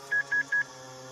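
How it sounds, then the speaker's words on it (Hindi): Three short, evenly spaced phone keypad tones sound in quick succession as a number is dialed, clear and alone against faint background hum. "प्रिया अब अपने गुस्से को भूल गई थी और डर के मारे वो सुमित्रा को फोन मिलाने लगी।"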